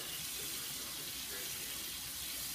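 Running water rinses conditioner out of a girl's hair, a constant close rush with faint voices beneath.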